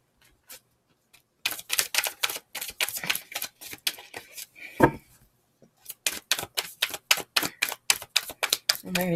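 A deck of cards shuffled in quick riffling bursts, crisp rapid clicks close by, pausing briefly then starting again.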